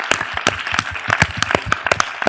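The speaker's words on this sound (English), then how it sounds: "please, one more round of applause for Emir, Elmir, Ademir" An audience at a film Q&A claps in a lively round of applause, with dense, uneven hand claps crowding together for the whole stretch.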